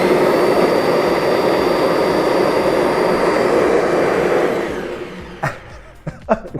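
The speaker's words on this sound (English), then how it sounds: "We've got a bag in there, see what it sounds like, and if it vacuums, pretty sweet" A Kirby vacuum cleaner runs with a loud, steady roaring hum that winds down toward the end, followed by a few sharp handling clunks.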